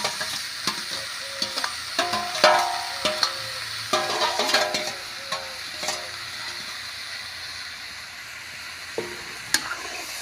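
Boiled potatoes being stirred into a sizzling Punjabi-style tempering for a spinach and greens sabzi, with steady frying hiss and scattered scraping stirs of the spoon through the pan, no talking.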